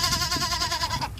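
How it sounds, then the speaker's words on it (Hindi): A goat bleats in a village setting, a single wavering, nasal cry lasting about a second, close and clear, with no other sounds around it. "राजा, तू अपनी एक बकरी को तो संभाल नहीं पाता,"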